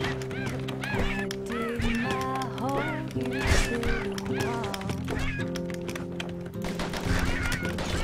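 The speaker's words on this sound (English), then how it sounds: "Oh, fucking birds!" Birds in the video game Bastion honk and quack in a busy, overlapping flock, with repeated goose-like calls close by over a steady game background, and no speech in between.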